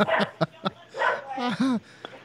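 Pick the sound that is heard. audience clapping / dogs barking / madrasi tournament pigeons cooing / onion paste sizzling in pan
dogs barking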